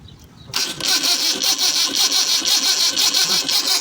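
A Suzuki engine with a faulty magnetic CDI distributor being cranked without starting, a loud rhythmic whirring churn from the starter that kicks in abruptly and pulses steadily without catching.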